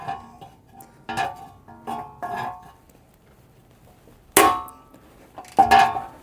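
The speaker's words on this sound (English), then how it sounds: "let's actually get a ratchet and break that nice and slow" A ratchet working loose a 17 mm nut on a Nissan Z31, with soft clicking and a few sharp metallic clanks, close and fairly quiet.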